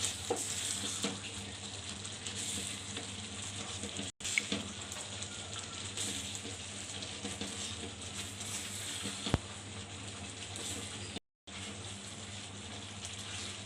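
Green moong halwa with chibud being stir-fried in a pan, a steady close hiss and bubbling sizzle with occasional stirring scrapes, briefly cut off twice by short silences.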